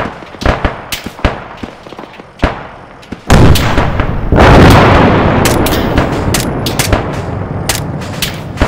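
A rocket launcher fires at a self-propelled gun in the military shooter ArmA III: scattered sharp gunshots, then a sudden heavy launch blast and a long rolling roar, with more distant shots continuing.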